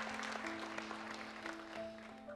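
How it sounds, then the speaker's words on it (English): Conference audience applauding two gentlemen welcomed on stage at a plenary session of the K.E.Y. Platform 2018 forum, a steady, fairly faint wash of clapping with a faint steady tone running underneath. "Please, a big applause for the two gentlemen."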